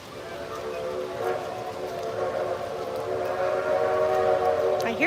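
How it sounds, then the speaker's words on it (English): A train approaching a station, with a steady, droning rumble and tonal whistle-like hum that gradually grows louder, heard from some distance with no talk over it. "It must be coming into the station."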